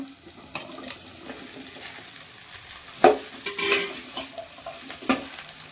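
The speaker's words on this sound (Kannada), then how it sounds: "ಇವಾಗ ಕಟ್ ಮಾಡ್ಕೊಂಡಿರೋ ಬೆಂಡೆಕಾಯಿಯನ್ನು ಸೇರಿಸ್ಕೊಳ್ಳೋಣ" Cut okra hits onions frying in a pan and is stirred, giving a soft, steady sizzle broken by a few scraping clinks of a spoon against the pan.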